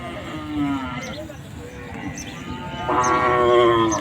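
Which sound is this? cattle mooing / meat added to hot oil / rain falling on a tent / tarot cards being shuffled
cattle mooing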